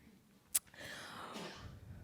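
A single brief sneeze bursts out sharply and alone at a poetry reading, followed by soft breathy room noise and faint murmuring.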